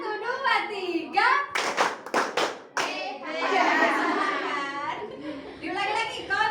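In a classroom, children chant and clap a counted sequence; a tight cluster of sharp, loud group claps lands early on, followed by longer stretches of young voices speaking in unison.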